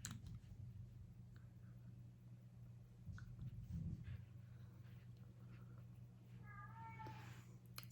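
House cats meowing faintly in the background, with a brief high meow near the end rising over a steady low indoor hum, with no one talking.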